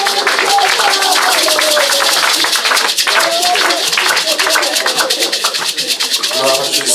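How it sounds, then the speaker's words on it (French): A church congregation claps rapidly and continuously in rhythm while voices call out and acclaim Jesus, loud and close, with shouting over the steady claps throughout. "Acclamons Jésus, acclamons Jésus."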